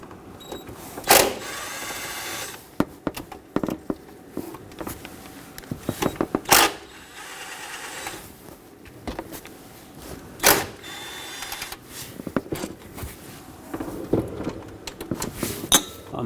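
Ratcheting and clicking of a wrench loosening 10mm nuts and bolts from the throttle body on a 2007-2014 Chevrolet Silverado 2500 HD 6.0L, coming in short bursts with pauses between, close and moderately loud.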